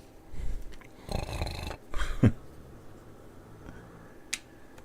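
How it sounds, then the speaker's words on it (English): Bulldog snoring close by: a few rough, throaty snorts with pauses between them, with no talking. "As soon as I start talking, the dog starts snoring."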